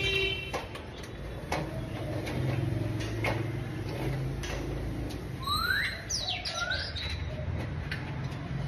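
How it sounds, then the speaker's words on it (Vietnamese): Oriental magpie-robin singing indoors at a home, a few bright, sweeping whistled phrases and chirps near the middle, fairly faint over a busy background with ticking and low rumble. "đây là một trong các chú chè than đang vừa chơi tại nhà này"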